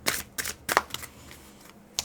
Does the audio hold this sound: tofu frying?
no